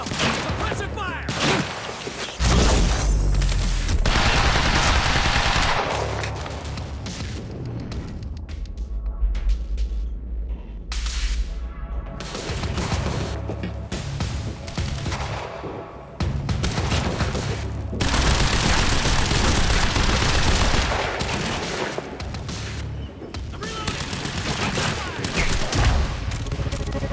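Heavy suppressing gunfire in the Quantum Break video game, sustained bursts of automatic fire and booms rolling in loud waves, with brief lulls between barrages and shouted voices mixed in.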